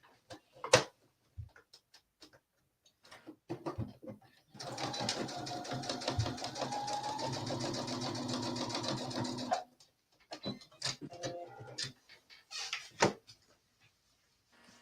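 A sewing machine stitches a Blair skirt in one sustained run of rapid rhythmic needle clatter lasting about five seconds, with scattered handling clicks and taps before and after.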